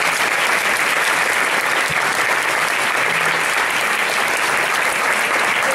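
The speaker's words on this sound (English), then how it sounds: "Round of applause for Dr." Steady, dense applause from a luncheon audience fills the room at full volume throughout, with no voices standing out.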